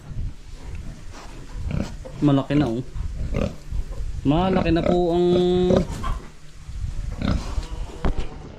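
Pigs on a farm grunt and oink in short bursts and a longer squealing run close by, with people talking over and between the calls.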